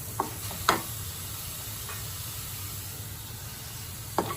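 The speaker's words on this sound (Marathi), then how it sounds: "दोन तीन मिनटातच ही भाजी चांगली परतून झाल्यावर ही आकसून जाते व थोडीशी शिजते" Methi (fenugreek leaves) sautéing in a kadai, giving a steady soft sizzle and hiss with a few brief scraping stirs near the start and end.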